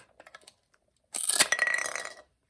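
A toy potato from a children's play vegetable set is cut apart, giving a short burst of clattering plastic clinks and clicks about a second long, preceded by a few faint light taps.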